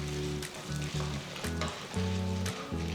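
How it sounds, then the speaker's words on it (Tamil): Chana dal and urad dal fry in a tablespoon of oil in a kadai for a coconut coriander chutney, giving a soft, steady crackling sizzle. It is faint and close, with no talk over it. "1 டீஸ்பூன் கடலைப்பருப்பு, 2 டீஸ்பூன் உளுத்தம்பருப்பு சேர்த்து வறுத்துக்கோங்க"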